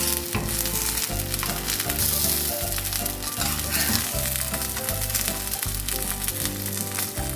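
Oyster mushroom tempura frying in hot oil crackles and sizzles steadily, a bright continuous hiss close by, with a loud rhythmic music track thumping underneath throughout.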